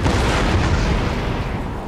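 Cannon fire in Napoleon: Total War: a loud, sustained rumbling boom of battlefield guns, heavy and broadband without any speech.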